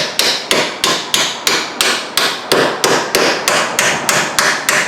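Repeated hammer taps on a bolt during rear brake work on a 2009-2014 Hyundai Sonata, about fourteen sharp metallic strikes in a steady rhythm, loud and close with no talking.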